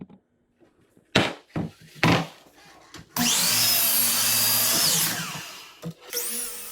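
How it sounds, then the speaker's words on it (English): A power saw cross-cuts and rips wooden boards for a coffee tabletop. A few sharp knocks and short bursts come first, then a loud, sustained, steady whine of cutting, and further brief cuts follow. "each board making up the top was cross-cut to approximately the same length, and then each board was ripped to trim just a little bit off"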